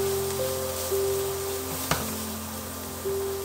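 Chopped onion sautéing in a pan for a creamy pasta sauce, giving a steady soft sizzle that runs throughout with a few faint clinks and stirring noises on top.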